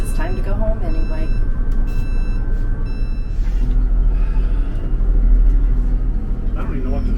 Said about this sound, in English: We just had a semi-truck back into us.